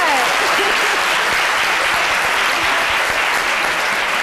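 A studio audience at a women's day program breaks into loud, continuous applause, dense clapping throughout with faint voices underneath.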